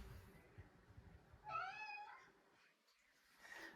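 A house cat meows once, a short drawn-out cry close by in a quiet room, followed by faint rustling and a softer second sound near the end.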